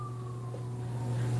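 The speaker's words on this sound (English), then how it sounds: "Y'all hear the sirens?" Sirens passing outside, a faint, high wailing tone that slowly drops in pitch over a steady low indoor hum.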